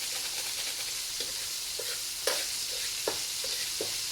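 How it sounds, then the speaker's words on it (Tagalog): Smoked tinapa fish powder is sautéed in a pan for palabok sauce, a steady soft sizzle with occasional light scraping stirs and clinks, and no voices. "Ginigisa niya yung powder."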